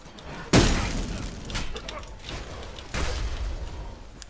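A burst of explosion and impact effects in the SMITE video game, a sudden loud crack followed by a rumbling blast, then a second surge of crashing noise amid busy game sounds.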